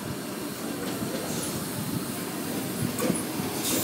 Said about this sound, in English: Arriving on platform 6, we have a Tangara T46 Cronulla via Crocker service.